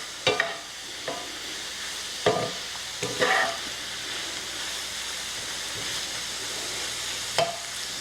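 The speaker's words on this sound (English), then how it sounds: "I'm just going to cook this a minute or two just to kind of tenderize these vegetables" Vegetables sautéing in a pot for New Orleans-style red beans: a continuous soft sizzle with a few sharp stirring knocks and scrapes spaced through the clip, close and moderately quiet.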